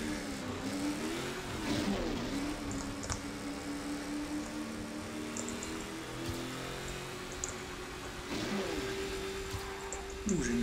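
Car engine in the racing game Trackmania 2 Canyon, a steady loud drone with shifting pitch as the car speeds along, revving up around the start and again near the end, over constant game noise.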